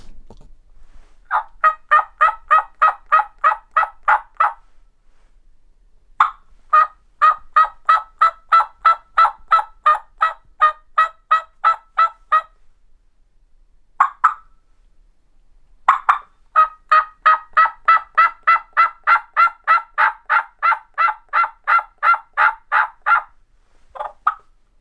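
A wild turkey gobbles in long rapid bursts of sharp repeated notes, several separate runs with brief pauses between them, loud and close against a quiet background.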